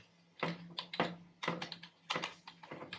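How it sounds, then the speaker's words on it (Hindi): Rapid bursts of keystrokes on a computer keyboard, close and crisp, coming in several quick clusters separated by short pauses over a faint steady hum. "सिंपली मैं यहां पर टाइप करूंगा RUFUS डाउनलोड"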